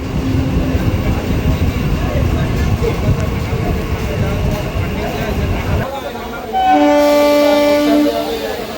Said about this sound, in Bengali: আরংঘাটা স্টেশনের 1 নম্বর প্ল্যাটফর্ম থেকে আমাদের ট্রেন ছেড়ে দিল